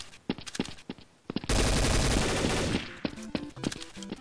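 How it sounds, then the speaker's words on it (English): Gunfire in the video game Counter-Strike: Source, fired from a small pistol: sharp, close, scattered shots, then a dense roaring burst lasting over a second, followed by more quick isolated cracks. "I was shooting with the dinky little pistol."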